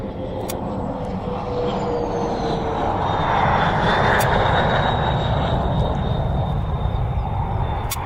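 A fixed-wing aircraft on approach to an airfield drones steadily throughout, its engine roar swelling slightly toward the middle and staying loud and continuous with no talk over it.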